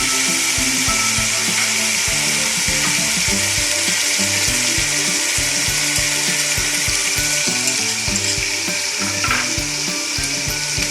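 Mutton for biryani fries in a pot with a loud, steady sizzle, while rhythmic scraping and stirring knocks repeat throughout, close up and with no talking.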